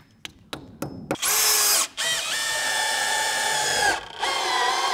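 Power drill boring into a rebar-reinforced wall: a few sharp taps first, then a loud high whine starting, a short pause, and a longer sustained drilling run with another brief break near the end, close and alone.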